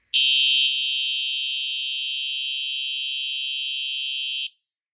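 A Simplex 4903-9252 horn strobe fire alarm sounds in continuous mode, one loud, unbroken, piercing electronic horn tone that starts abruptly and holds for about four seconds before cutting off into silence.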